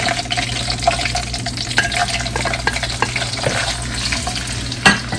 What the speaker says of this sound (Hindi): इसके बाद हम इसमें हल्की हल्की सी चिली फ्राई करेंगे ताकि उसका फ्लेवर हमारे ऑयल में चले जाए